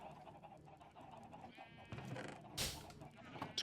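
Blocky Minecraft sheep on an automatic sheep farm bleat in short, overlapping calls, fairly faint and close, with a few other game sounds and brief voice murmurs around them.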